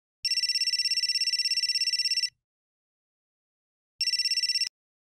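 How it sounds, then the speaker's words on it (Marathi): Mobile phone ringing with a bright electronic trill in a rapid pulsing pattern, a two-second burst, a pause, then a shorter burst that cuts off abruptly, clear and alone. "फोन वाजतोय तुझा"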